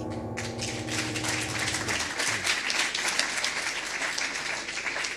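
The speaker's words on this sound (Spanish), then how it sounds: "Aplausos." Audience applause at a poetry book presentation, a dense burst of many hands clapping that starts after a brief tonal lead-in and holds steady and close for several seconds.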